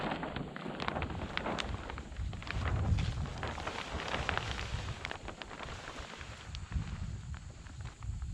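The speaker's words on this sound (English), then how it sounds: "just in time for the wind to start picking up" Gusty wind buffets the microphone on an outdoor house-build site during slab pour preparations, a steady broadband rumble rising and falling throughout with faint scuffing movement.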